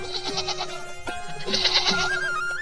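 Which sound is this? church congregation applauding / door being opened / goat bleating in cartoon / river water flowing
goat bleating in cartoon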